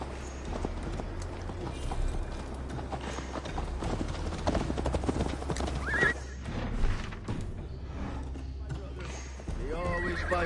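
Horse galloping in Assassin's Creed Valhalla, with steady clip-clop hoofbeats and a whinny, carried along under game music and voices talking throughout.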